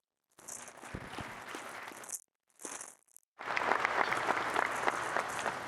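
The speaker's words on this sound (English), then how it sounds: "Please give them a round of applause." Audience applause at a press conference introducing a West Virginia University basketball coach, starting in short broken bursts, then swelling into a steady, dense round of clapping.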